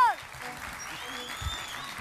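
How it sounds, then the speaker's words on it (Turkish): Studio audience applause on a 2003 Turkish television entertainment show, a moderate broadband patter of clapping lasting about two seconds, with faint voices and tones mixed underneath. "Alkışlar."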